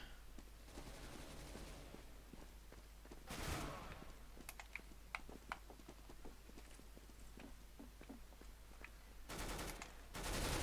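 Gunfire in Counter-Strike: Global Offensive, played with a Steam Controller, comes as quiet scattered shots and bursts, with a couple of louder bursts standing out over faint background game noise.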